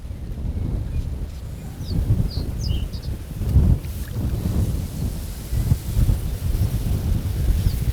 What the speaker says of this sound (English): That wind is stronger than what we think, let me tell you.